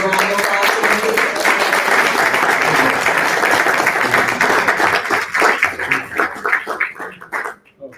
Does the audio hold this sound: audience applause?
yes